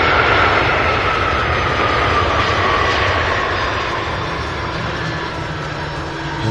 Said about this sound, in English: So we have another one coming in here. Our first MD-11 of the evening.